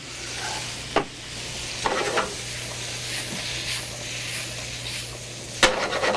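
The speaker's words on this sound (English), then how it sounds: "Just let that saute away" Basil, black pepper and kosher salt sauté in a pan under a soft, steady sizzle, with a few sharp scrapes and knocks from stirring at irregular moments.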